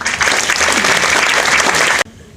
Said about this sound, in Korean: 다시 한번 큰 박수로 환영합시다